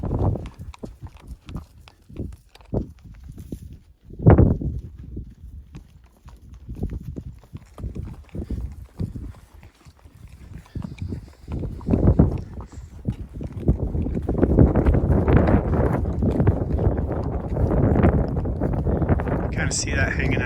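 Hooves clatter and thump on a metal trailer floor as cattle shuffle aboard beside a desert road, with bangs and scrapes building into a steady rumble, plus some wind noise.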